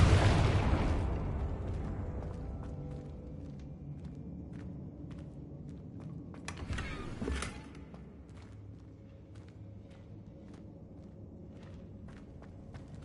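A Confringo blast spell in Hogwarts Legacy bursts loudly at the start and fades into a rumbling tail; a second, sharper blast follows midway, with faint footsteps pattering between.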